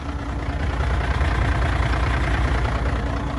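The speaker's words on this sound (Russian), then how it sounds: "Вот, видите, компрессор сбросил, сразу другой звук двигателя." A truck engine runs at a steady idle just after its air compressor has cut out, a close, continuous low rumble with an even mechanical throb and no voices over it.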